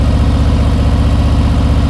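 A motorcycle engine idles at a stop before a turn, a loud, close, steady low throbbing pulse that holds even throughout.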